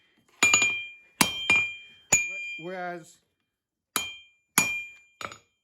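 A hammer strikes hot steel on an anvil while a knife is forged, ringing metallic blows in irregular groups with sharp clinks, close and loud, and someone speaks briefly between strikes.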